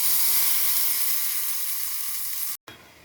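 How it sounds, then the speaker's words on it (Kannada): Tempering (oggarane) hitting a bowl of chutney gives a loud, steady sizzling hiss with no talk. It cuts off sharply for a moment near the end, then returns more quietly. "ಇವಾಗ ಇದಕ್ಕೊಂದು ಒಗ್ಗರಣೆ ಹಾಕ್ಕೊಳ್ಳೋಣ"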